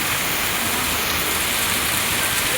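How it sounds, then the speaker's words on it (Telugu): Heavy rain pours down at a bus stop in Vidyanagar, Hyderabad, a dense, loud, unbroken hiss of falling water with no voices. "చూడండి ఫ్రెండ్స్, ఎలా వస్తుందో వర్షం."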